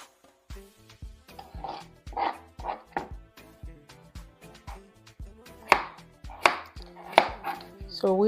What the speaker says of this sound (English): So we have cleaned the squash. We just cut.